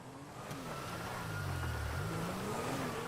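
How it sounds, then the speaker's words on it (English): Police car in GTA V Online driving past, its engine swelling to a loud, steady rumble and slowly fading, with a faint wail of a siren-like tone above it and no voices. "There's a cop car coming down here."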